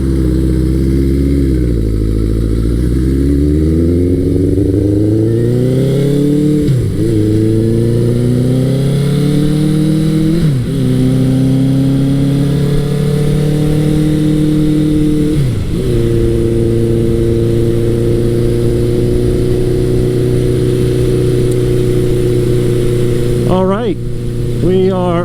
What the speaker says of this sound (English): when you ride a carbureted bike in the cold, they hunt and pop when you start off